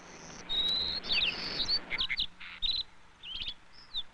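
Golden-cheeked warbler singing on its territory, high thin buzzy phrases and chirps repeated several times at moderate distance over a soft outdoor background hiss.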